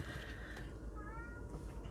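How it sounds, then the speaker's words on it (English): A pet cat cries and meows at a door, a brief, faint, drawn-out call over steady background noise, with no talking. "And the song and the cries of my kitty at the door."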